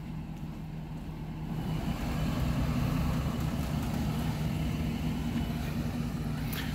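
A truck towing a trailer idles during a parallel-parking manoeuvre. A steady low engine rumble swells slightly after the first couple of seconds and then holds even, close and continuous, with no voices.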